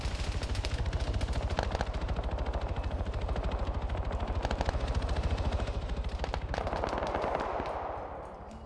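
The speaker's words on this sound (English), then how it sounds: "UH-80 now firing overhead." Sustained, dense automatic gunfire from a UH-80 helicopter firing overhead in a combat video game, with rapid rounds rattling continuously at steady loudness before easing off near the end.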